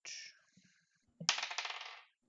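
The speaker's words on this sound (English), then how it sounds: "Let me get my dice out" Dice for a tabletop game check: a faint clack as they are picked up, then a bright, close rattle lasting under a second as they tumble and skitter across the table before settling.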